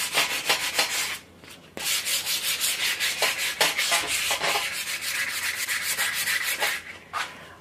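A wooden axe handle is sanded by hand with 100 grit sandpaper in quick, regular back-and-forth strokes, loud and close, pausing briefly twice before resuming the rhythmic rasping.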